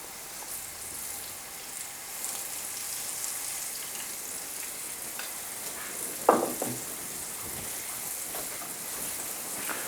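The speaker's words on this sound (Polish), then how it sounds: "Karpik ląduje na patelni. Zaczynamy smażyć od skórą do dołu." Carp fries skin side down in a pan with a steady, even hiss and crackle, broken by one brief louder spatter midway.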